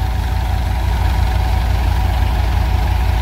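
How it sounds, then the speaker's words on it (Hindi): Massey Ferguson and Farmtrac tractors idle together outdoors, a loud, steady diesel drone with a low rhythmic throb holding unchanged throughout, no voices over it. "दोनों ही ट्रैक्टर लाइव चल रहे हैं।"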